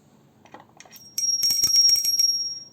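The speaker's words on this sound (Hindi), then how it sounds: "कर लेंगे अब आरती घंटी बजाकर" A small hand bell rings rapidly and continuously during Hindu aarti worship, with a bright, sustained metallic tone, preceded by a few soft taps.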